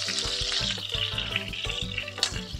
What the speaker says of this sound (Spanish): Una vez que el chanchito ya está bien sazonado, vamos a freírlo.